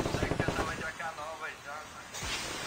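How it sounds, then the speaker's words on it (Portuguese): Rapid bursts of gunfire in Call of Duty Mobile battle royale crackle back and forth, fairly loud, with people talking over the shooting. "Tem uns caras trocando tiro aqui"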